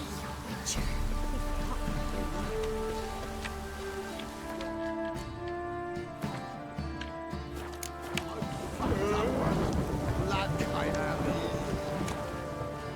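Steady rainfall pattering on surfaces in The Witcher 3, a continuous hiss of drops that runs throughout, with spoken dialogue over it.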